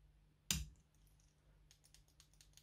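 A single sharp click of a PS5 controller L1 button fitted with a smart trigger, close and crisp, followed by faint light tapping sounds.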